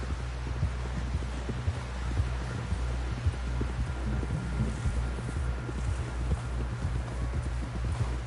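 Horse hooves clip-clopping in Red Dead Redemption 2, a steady, fairly close run of hoofbeats over a low rumble and wind-like noise, lasting several seconds without talking.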